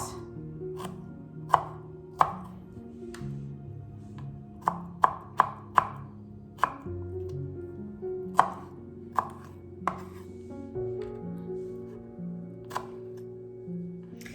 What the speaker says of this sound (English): So I'm just going to chop up some strawberries.